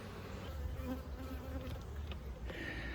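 Honeybees buzz steadily around a hive, a dense, continuous drone close by with no pauses.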